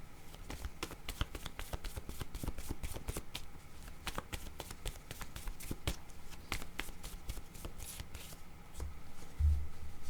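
Cards for a tarot-style reading are shuffled in a quick, crisp riffling flutter that runs steadily throughout, close and fairly quiet, ending with a soft thump as a card is drawn, no voices.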